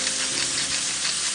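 Vegetables sautéing with salt and black pepper in a hot pan, a steady close sizzle and crackle that fills the short moment on its own.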